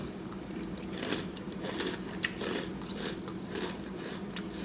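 Crunchy cereal being chewed close to the mouth, a steady run of soft crunches and bites over about five seconds with no talking.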